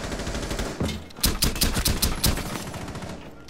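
Gunfire from the game Rainbow Six Siege: several sharp, loud shots in quick bursts, close and dense, with no talk over them.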